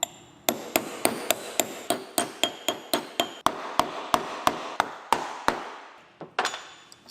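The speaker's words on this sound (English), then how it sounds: "they give you this little cup to whack it on there with" A seal ring is driven onto a pickup driveline part with a small installer cup, about twenty sharp metallic hammer blows in a steady, close rhythm, then a brief pause and a final pair of strikes.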